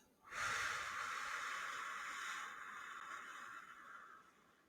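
A slow, deep exhale during a calm breathing exercise: one steady, breathy rush of air that starts suddenly, holds level for about four seconds, then tapers softly, close and alone.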